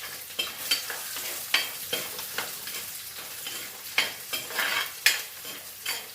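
Garlic frying in a pan for a Kerala theeyal, stirred in repeated scraping strokes over a bright, close sizzle, with no voices.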